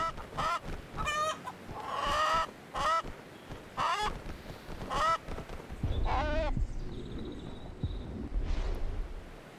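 Chickens in the VR combat game Blade & Sorcery squawk and cluck in a string of loud, wavering bursts, some drawn-out and warbling as if slowed down, over a busy low rumble.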